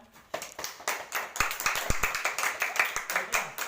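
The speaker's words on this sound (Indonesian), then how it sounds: "berikan tepuk tangan untuk Repan" Applause from a small group of students during a village community-service class session, a patter of claps building after a moment and continuing steadily, close and alone.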